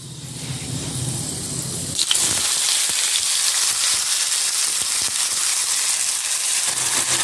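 Finely chopped onions hit hot mustard oil with whole black peppercorns, bursting into a loud, steady sizzle that starts abruptly and stays strong and close throughout.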